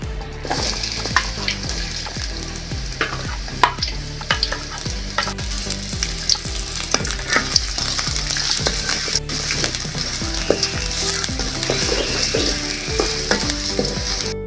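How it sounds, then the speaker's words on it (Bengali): Chopped onion and green chillies frying in hot oil for a chicken gizzard and liver bhuna, a steady loud sizzle with repeated scraping and stirring clicks from a utensil against the pan. "তেল ডাইলা দিতে আছি, পেঁয়াজ কুচি, কাঁচামরিচ একসাথে দিয়ে দিতে আছে"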